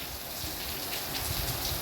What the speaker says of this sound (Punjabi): ਬਾਰਿਸ਼ ਮੀਂਹ ਆ ਗਿਆ ਦੇਖੋ ਇਹ ਦੇਖੋ